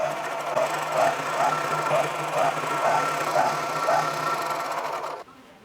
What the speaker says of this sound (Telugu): స్టిచ్చింగ్ అంచు ఈ విధంగా కుట్టుకోవచ్చు